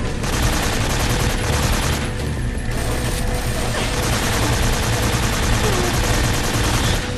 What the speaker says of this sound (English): These guys are further away, so I'm gunning at them with the AK.